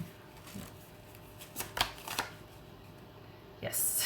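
Tarot cards riffled and shuffled in a few short bursts, soft and close, with quiet speech nearby and a brighter shuffle at the end.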